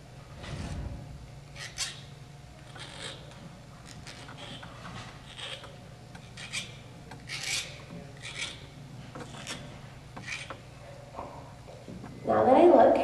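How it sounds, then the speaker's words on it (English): A flat file rasps burrs off the end of copper tubing in short, uneven strokes, fairly close, with a louder scrape near the end. "I then take my copper tubing and grab my flat file and I start filing off the burrs."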